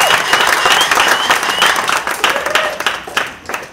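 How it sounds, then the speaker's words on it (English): A round of applause from the crowd at a wake held in a steelband panyard for a pannist, sustained clapping close and lively for a few seconds, a little cheering mixed in. "Ladies and gentlemen, give him a round of applause"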